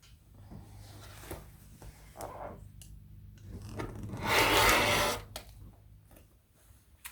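Quilt fabric backgrounds being cut on a cutting table, soft rubbing and slicing strokes close by, building to one longer, louder cut before trailing off, with a low steady hum beneath.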